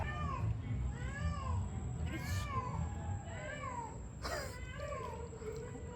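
An orange cat at a Cancún resort yowls in long, rising and falling caterwauls. The loud cries repeat over a steady background hum.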